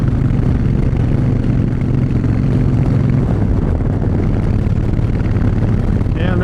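Harley-Davidson Fat Bob motorcycle riding on the road, a steady low engine drone mixed with heavy wind rush, loud and close for the whole stretch, with a brief higher sound near the end.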